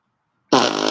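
A loud, close fart sound effect bursts in suddenly after half a second of silence, a single buzzy, sustained rasp lasting about half a second.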